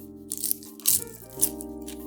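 Someone bites and chews crispy oven-baked potato chips, giving a few loud, close crunches over a low steady hum.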